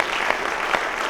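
A short burst of audience clapping at a live music show, an even wash of hands with a couple of slightly sharper claps standing out, heard alone without talk.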